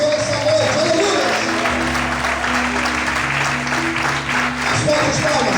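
A church congregation applauds during a service, steady dense clapping throughout while a held tone, likely from an organ or keyboard, sounds underneath.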